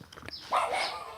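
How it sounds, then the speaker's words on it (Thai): A single short dog bark, somewhat distant, following a few faint thumps. "ถ้าได้ยินเสียงหมาต้องขอโทษด้วยนะคะ หมาอยู่ตรงนู้น"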